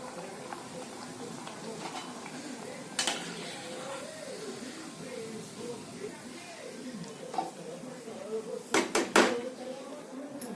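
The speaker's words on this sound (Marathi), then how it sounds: "तसंच आता आपण दुसऱ्याही तळून घेऊ." Colocasia leaf rolls (alu vadi) fry in a pan with a steady soft sizzle, a voice talking over it, and sharp utensil clinks near the start and end.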